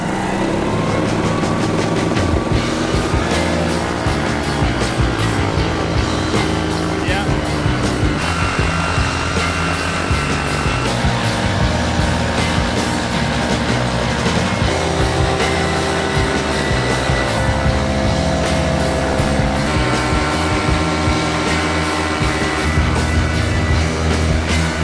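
An Atom80 engine on a Limitless frame runs during break-in, a loud, sustained buzzing drone with steady harmonics and slight shifts in pitch, heard alone and close.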